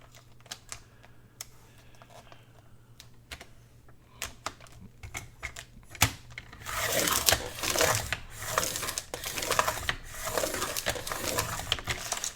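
A paper cutting machine slicing through cardstock and vellum during a papercraft project, sounding as a run of sharp clicks and taps that swells into a louder, dense chopping rustle in the second half, with no talking.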